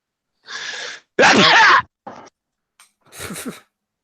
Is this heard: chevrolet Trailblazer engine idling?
no